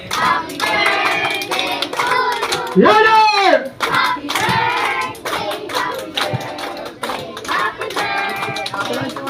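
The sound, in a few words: children and guests clapping at a birthday party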